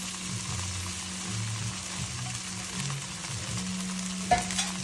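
Washed poha added to a hot frying pan and stirred, producing soft sizzling and scraping stir sounds at moderate level, with a sharper clatter near the end.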